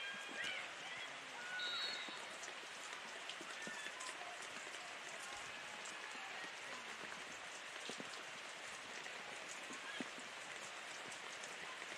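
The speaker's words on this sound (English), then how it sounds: "you can tell the rain has really picked up" Heavy rain pouring onto an outdoor field during a women's college soccer match, a steady dense patter filling the scene at moderate distance, with faint voices underneath.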